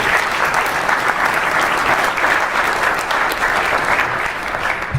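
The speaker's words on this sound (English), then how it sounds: "So another round of applause for Ben." Sustained audience applause at a science talk presentation, steady dense clapping from a sizeable crowd, loud and continuous throughout with no speech over it.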